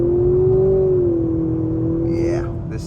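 A 2024 Nissan Altima SR VC-Turbo pulls hard in first gear, a loud, steady engine drone inside the cabin that holds its pitch and then eases off.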